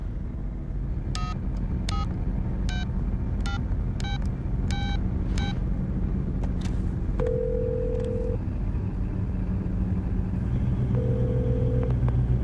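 Touch-tone telephone dialing, a quick series of about eight distinct beeps at an irregular pace, followed by longer tones over a steady low rumble of road or engine noise.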